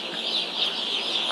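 Day-old broiler chicks inside a poultry house chirp in a dense, high-pitched chorus that runs without a break and sounds fairly close.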